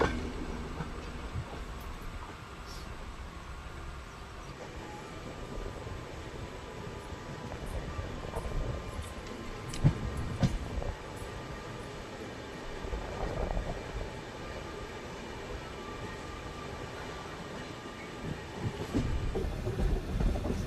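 A passenger train rolls toward Yesvantpur railway station near Bangalore, a steady rumbling run with rattling carriages and occasional clacks and squeals, heard from on board or close by.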